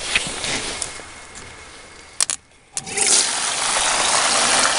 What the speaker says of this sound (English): we'll go ahead and fire up this sluice box